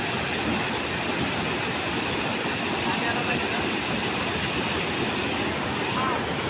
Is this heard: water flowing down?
yes